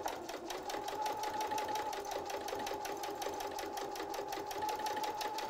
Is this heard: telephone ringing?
no